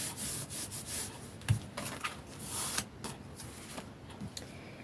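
A ribbon laid and pressed by hand onto a handmade retro card gives soft rubbing and papery brushing sounds, a few brief scrapes and one light tap, close and quiet with no talking.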